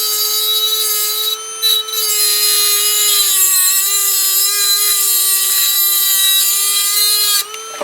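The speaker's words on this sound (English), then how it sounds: "So I'm going to continue and trim these additional 3 cylinders," High, steady whine of a power tool trimming temporary dental cylinders on an All-on-4 benchtop conversion, a continuous grinding tone with brief dips, loud and close with no talking.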